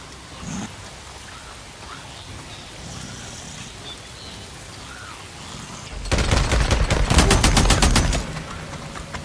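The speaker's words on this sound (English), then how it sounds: "this LMG does a lot of damage" A light machine gun fires in the video game Days Gone, a rapid burst of close, loud shots lasting about two seconds after a stretch of quieter background ambience.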